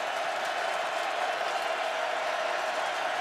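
A dense, steady roar from a football stadium crowd at a Clemson versus North Carolina college game, 2011, rising as a hushed-but-loud wash of many voices that fills the whole stretch without breaks.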